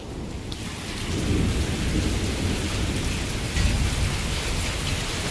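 A heavy hailstorm pours down with rain, a dense, loud, steady hiss and patter on surfaces close by, with a deep rumble of thunder swelling under it and no one talking.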